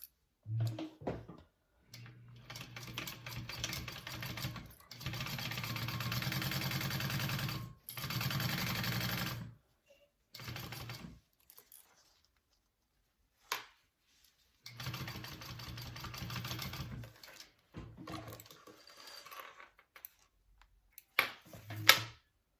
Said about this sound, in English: you're going to sew that together at a 1/4 inch stitch along the zipper